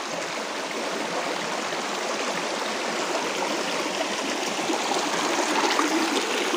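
A forest stream runs murky and swollen after heavy rain upstream, its steady rushing and gurgling water filling the whole stretch at an even, close level with no voices.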